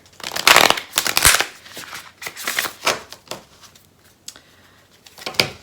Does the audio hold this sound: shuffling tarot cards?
yes